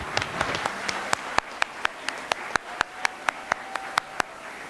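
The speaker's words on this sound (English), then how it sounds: "A big clap to them, to the dance team." An audience at a school awards day applauds the dance team, with a few sharp, evenly spaced claps standing out over a soft wash of clapping from a crowd farther off.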